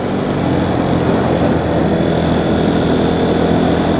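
A Honda CRF dirt bike rides offroad in fifth gear at about 40 km/h, its engine a loud, steady droning hum holding constant throughout, no speech.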